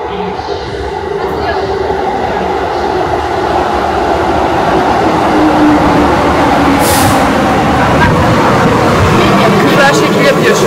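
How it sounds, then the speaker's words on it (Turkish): A train in Kyoto rumbles in loud and close as it arrives, a heavy rolling roar with a brief high hiss of brakes partway through. "Geliyor trenimiz sanırsam bu."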